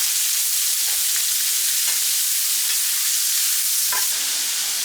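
Onions and garlic frying in a pan for a slow cooker beer roast, giving a steady, loud, close hiss of sizzling with a few faint clicks of a utensil, no talking.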